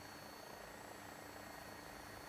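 AW109SP helicopter engine in a flight simulator game, a steady turbine whine with broad rotor and engine noise held at a constant, fairly quiet level as power is applied for takeoff.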